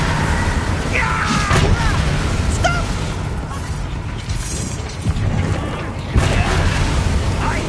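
Blasting spell explosions in the wizarding game Hogwarts Legacy, loud booming crashes and bursts over a dense, continuous roar of combat noise, with a voice briefly heard.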